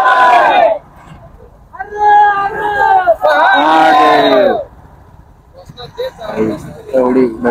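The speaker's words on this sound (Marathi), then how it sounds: "एवढी भयानक गर्दी झाली" A huge, dense crowd chants and roars in loud bursts hailing Chhatrapati Shivaji Maharaj, with many voices rising together in drawn-out shouts, separated by brief lulls of murmuring.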